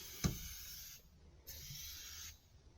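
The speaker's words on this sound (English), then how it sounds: "So I think we'll try the aerosol can. And start at the top and spray these vents." An aerosol can sprays foaming cleaner onto the vents of a semi truck cab, a soft hiss that starts with a faint click, breaks off briefly, then resumes; quiet and close, with no talking.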